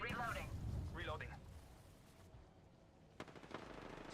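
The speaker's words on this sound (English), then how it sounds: "Hey, they're shooting at me." Video game gunfire, with a short burst of shots late in the clip following a stretch of game audio and a voice speaking early on.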